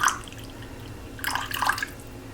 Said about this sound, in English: I'm just adding enough water so that there's about